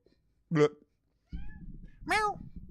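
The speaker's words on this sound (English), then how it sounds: "Cat is talking." A house cat meows twice, a short close call followed after a pause by a longer rising-falling meow, over faint background rumble; a man has just spoken nearby.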